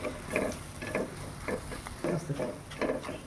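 Fried onion with cumin and coriander powder is stirred in a pan, rhythmic spatula strokes scraping and turning the mixture over a soft continuous sizzle, heard up close.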